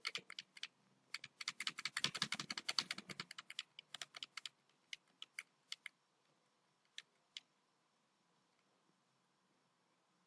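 Computer keyboard keys tapped one after another, including the space bar, delete and enter keys, in a quick dense burst of clicks that thins to sparse single presses, near and fairly quiet with no talking.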